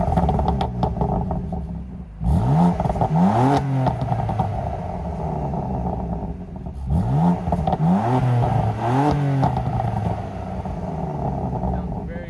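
BMW F80 M3 exhaust in Sport Plus mode, revved hard from idle: loud close blips that climb and fall back, two clusters of revs over a steady rumbling idle, with talk over parts of it.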